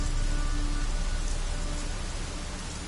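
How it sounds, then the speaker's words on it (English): Dense, steady hiss of rain in The Witcher 3 video game, loud and continuous with no voices, tapering slightly toward the end. "Looks like rain."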